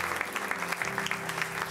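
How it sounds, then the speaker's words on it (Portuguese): Congregation applauding in a church service, a short burst of steady, fairly quiet clapping from many hands with no talk over it. "Podemos dar um aplauso ao Senhor?"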